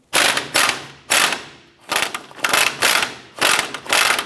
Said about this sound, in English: Using our 22 millimeter swivel socket with an extension, we're gonna go ahead and loosen this nut on the upper ball joint.